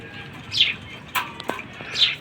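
Pigeons feeding inside a cage give a few soft chirps and brief fluttering wing sounds, close by and fairly quiet, with short rustles between the calls.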